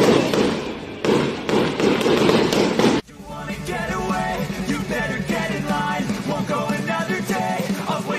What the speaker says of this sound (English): fireworks, what's going on?